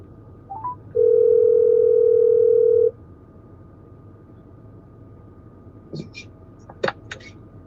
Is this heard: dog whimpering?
no